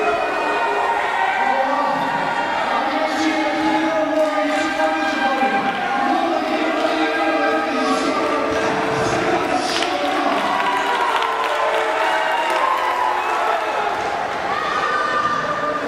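A wrestling crowd at a Rossford show roars steadily at the IndyCar Mafia faction, a dense, loud wash of shouting and cheering that never lets up, with voices blending throughout.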